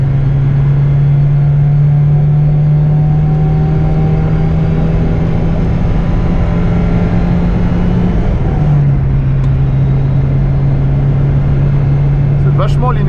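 A Peugeot 205 Turbo 16 Série 200 from the Peugeot museum drives along, its engine holding a loud, steady drone with a brief dip in pitch, as people talk in the cabin over it.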